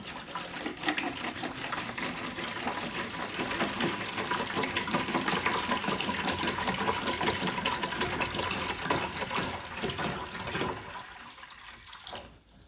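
Water poured steadily into a fermenter for homemade blueberry wine, a continuous loud splashing rush of about half a gallon that runs for over ten seconds before cutting off near the end.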